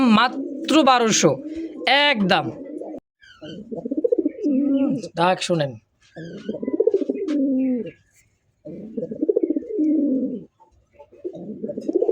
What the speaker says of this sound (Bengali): সিঙ্গেল নর কবুতর ছাড়াই ডাকে দেখছেন কবুতর ছাড়াই ডাকতেছে